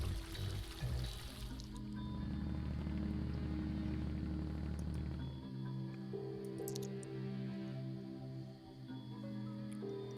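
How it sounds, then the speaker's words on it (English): Water runs and pours steadily in The Darkside Detective, with a low flowing rush at first that gives way to a lighter, quieter trickle and a few faint bright ticks. "The water's running again."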